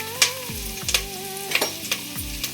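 Peanuts, roasted chana, cumin and curry leaves fry over medium heat for a chatpata avalakki snack, giving a steady close sizzle broken by regular scraping and clinks of a stirring spoon, with no one talking.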